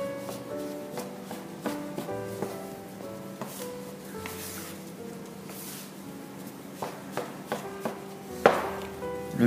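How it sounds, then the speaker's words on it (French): A dough scraper cuts butter into flour on a work surface for shortcrust pastry, making repeated soft chopping taps at an irregular rhythm. Faint background music plays underneath. "allez couper comme ceci avec la partie plate de la corne jusqu'à l'obtention d'une pâte homogène"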